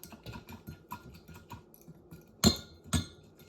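A spoon clinks against a bowl while stirring a honey dressing with red wine vinegar, a series of light taps followed by two sharper knocks near the end, close and fairly quiet.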